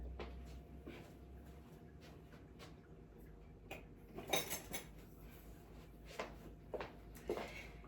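Utensils clatter and clink in a home kitchen as someone rummages for a measuring spoon while making biscuits, with a few sharp metallic knocks in the second half over a quiet background.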